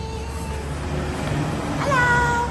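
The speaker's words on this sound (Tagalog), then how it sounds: "May pusa na naman." A cat meows loudly near the end over a steady low background hum. Faint earlier tones may come from the same animal.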